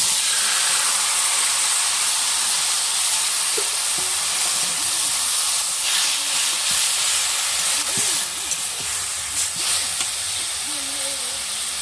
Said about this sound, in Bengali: আমি এখন শাকের ঝোল শাকটা দিয়ে দিচ্ছি